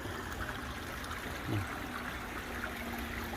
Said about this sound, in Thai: น้ำตกด้วย